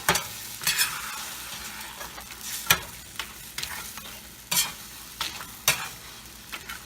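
Scrambled eggs with tortillas are stirred in a frying pan, giving a constant sizzle broken by repeated scraping strokes of the utensil at an uneven pace, close and fairly loud, with no talking.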